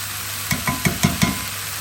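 Fish, leeks and Puy lentils get stirred in a hot pan: five quick, evenly spaced scrapes and soft thuds sound over a steady low sizzle, close up and without voices.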